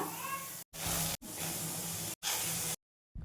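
Cumin, garlic, onion and tomato frying in oil in a pan over a gas flame make a loud, broad hiss in several bursts, broken by abrupt silent gaps.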